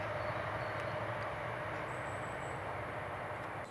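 A steady broadband rumble of a train running on a nearby railway near Kingswood, England, fills the air, continuous and moderately loud with no voices.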